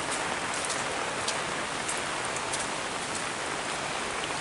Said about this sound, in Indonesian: Nah kalau di sana itu suasana hujan itu seperti gini ya sahabat.